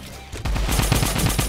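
Rapid automatic fire from a Tactical Assault Rifle in a video game, a loud close burst of evenly spaced shots starting after a brief lull and running to the end.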